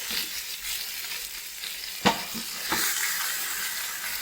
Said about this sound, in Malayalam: ഇതുപോലെ ചുറ്റും മറിച്ച് നമ്മൾ നല്ലപോലെ വേവിച്ചിട്ട് ഇത് വേവിച്ചെടുക്കുക.